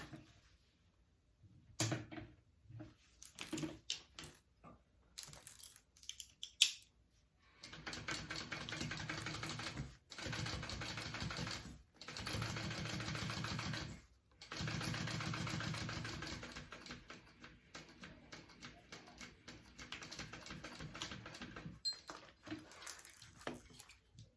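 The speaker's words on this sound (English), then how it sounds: "I'm going to sew that on at a 3/8 inch seam allowance" A sewing machine stitches a seam on a mini crossbody bag at a 3/8 inch seam allowance, running in several steady bursts of a few seconds each, separated by short pauses and light handling noises.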